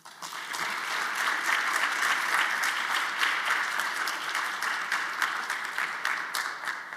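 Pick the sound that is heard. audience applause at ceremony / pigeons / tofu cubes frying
audience applause at ceremony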